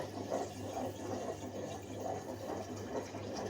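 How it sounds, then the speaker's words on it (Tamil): Water pours steadily into a pressure cooker, a continuous splashing flow with a low hum underneath and no talking. "இப்போ இது முழுகிற அளவுக்கு தண்ணி ஊற்றிக்கலாம்."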